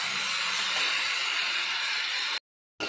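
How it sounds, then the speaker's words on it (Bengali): Rice tossed in hot oil in a pan with turmeric for a home-made veg pulao sizzles and hisses steadily for over two seconds, loud and close, then cuts to silence before a brief return. "চালটা দিয়ে একটু ভাজা ভাজা করতে হবে"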